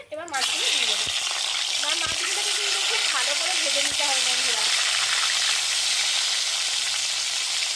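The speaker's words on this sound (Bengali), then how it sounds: "মাছগুলো লাল লাল করে ভাজা হয়ে গেছে" Loud, steady sizzle of catla fish rubbed with salt and turmeric frying in hot oil, close by, with a voice talking over the first few seconds.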